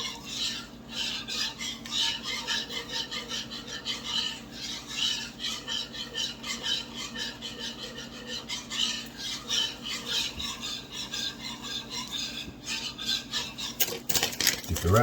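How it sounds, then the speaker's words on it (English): Cheddar cheese is stirred into a burger sauce mixture in a pot, making repeated wet, sticky squelching scrapes in an uneven rhythm, close and fairly loud. "I'm going to stir that in."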